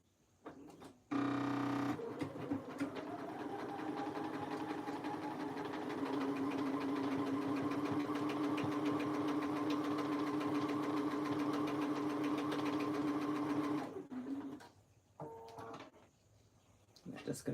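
Domestic sewing machine stitching thick Sherpa fabric for a dino nugget pillow, a steady whirring motor with rapid needle clatter running for over ten seconds, preceded and followed by short bursts and quiet handling.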